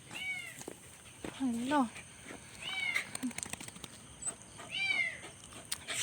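A kitten trapped inside a sewer gives several distinct, high, plaintive meows spaced a second or two apart, echoing and fairly near, while people talk between and over the cries.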